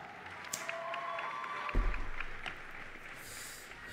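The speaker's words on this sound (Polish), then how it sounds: "Raz jeszcze wielkie brawa!" A live audience applauds the fighters announced for the co-main and main events at a High League fight conference, a dense wash of clapping with a brief louder burst midway, steady and moderately loud throughout.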